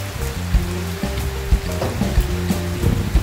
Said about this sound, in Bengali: দেখো বাইরে কি রকম বৃষ্টি হচ্ছে